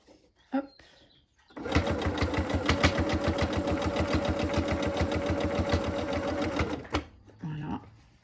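A domestic sewing machine stitches fabric for about five seconds in a steady, close, rapid mechanical chatter, with brief handling clicks and a little quiet talk before and after.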